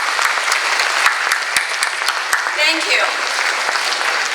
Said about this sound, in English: May I please ask for a round of applause to yourselves for coming to the gala